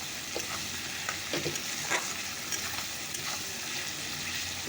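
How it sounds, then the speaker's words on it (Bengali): Onion, garlic and tomato sauté in a hot pan with a continuous crackling sizzle and faint scraping stirs, close and moderately loud. "এটাকে ভালো করে কষিয়ে নিই তো দেখতে পাচ্ছ পেঁয়াজ রসুন টমেটো কষানো হয়ে গেছে"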